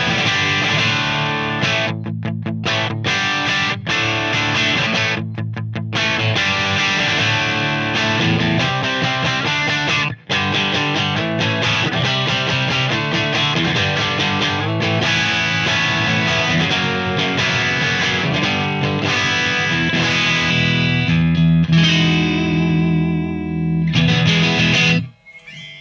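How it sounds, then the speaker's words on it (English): Electric guitar played through an Engl Powerball II amplifier on a clean channel set near the edge of breakup, strummed chords and picked lines ringing continuously and loud for the whole stretch with no talk. "It's a really nice clean sound."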